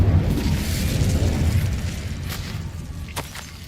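An Incendio fire spell cast in Hogwarts Legacy erupts as a loud, low roaring burst of flame that rumbles and slowly fades over a few seconds, with a few faint clicks near the end.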